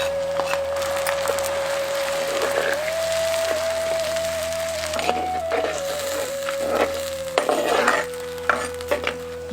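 Small onions and ground onion-tomato paste saute in a pan for South Indian garlic kuzhambu, giving a soft sizzle broken by scraping and clattering stirring strokes. A steady tonal hum runs underneath.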